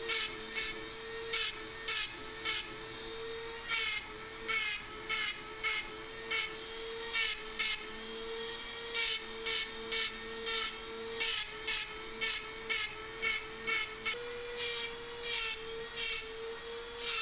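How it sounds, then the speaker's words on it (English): A Dremel rotary tool with a round bit carving small divots into a soft brass knife handle, a high whine broken into short repeated bursts as the bit touches and lifts off the metal. "I used a round bit and I'm just adding little scallop marks or divots into the brass"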